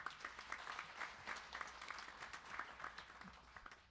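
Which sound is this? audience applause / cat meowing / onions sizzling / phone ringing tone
audience applause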